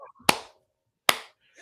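Two sharp hand claps ring out about a second apart, close and loud, with silence between them and faint voice fragments at the edges.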